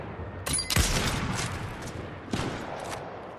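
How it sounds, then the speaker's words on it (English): Gunfire in a multiplayer shooter game crackles in a few sharp bursts, a strong shot near the start and a second cluster later, fairly close and without talk. "But there's shots behind us,"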